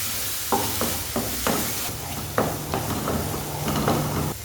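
Masala, onion and tomato sautéed in a pan for Kerala-style squid roast, a steady oily sizzle beneath a series of scraping stirring strokes with the spoon, close and fairly loud.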